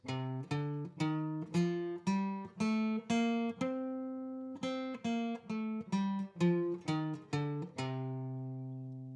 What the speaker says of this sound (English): this is the C Dorian scale